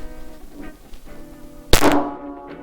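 A single sharp 9mm pistol shot fired from a generic Glock with Hornady Critical Defense ammunition, loud and abrupt with a brief ringing decay, preceded by quiet background noise.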